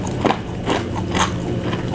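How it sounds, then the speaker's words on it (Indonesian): Teri kacang, a crunchy Indonesian snack of fried anchovies and peanuts, is chewed close to the mic, giving a few loud crisp crunches at an uneven pace. "Jadi kalau kita makan teri kacang, pas masuk ke mulut itu langsung renyah semuanya ya."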